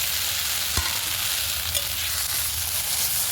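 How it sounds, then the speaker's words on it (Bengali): Ground spice paste, added to fried onions, sizzles and fries steadily in a pan, with a sharp clack of stirring near the start and another light knock later; continuous, close and fairly loud, with no talking. "বেটে রাখা মশলাটা 1-2 মিনিট ভালো করে ভেজে নেব।"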